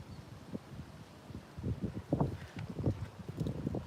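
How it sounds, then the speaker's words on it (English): Gusty wind buffeting a microphone outdoors at a hilltop cooking spot, coming in low, uneven rumbling surges that build and grow stronger in the second half. "It is a bit windy up here"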